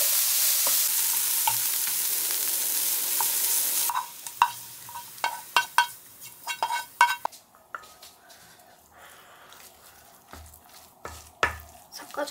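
Pepper-seasoned potato filling for croquettes being stir-fried, a steady sizzle that gives way to a busy run of clinking and scraping of a utensil against the pan, close and without talk.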